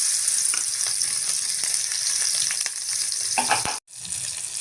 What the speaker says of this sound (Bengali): মাছটি দিয়ে দিলাম।